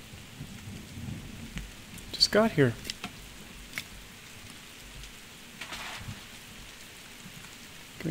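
Steady rain falls in the survival video game The Forest, a constant wash under a nearby voice, with a faint rumble like distant thunder in the background.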